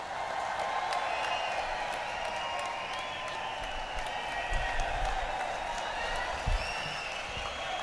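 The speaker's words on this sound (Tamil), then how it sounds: "கரகோஷம் இன்னும் சத்தமாக வேண்டும்" A large political rally crowd applauds steadily at a distance, a continuous wash of clapping with a loud voice over a PA echoing above it.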